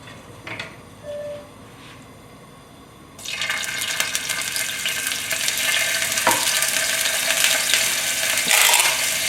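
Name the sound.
ginger and garlic frying in hot sesame oil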